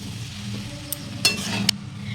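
Sugar and spices being stirred in a pan over low gas flame, with a soft continuous scraping and light sizzle and a few sharp clinks of a utensil against the pan.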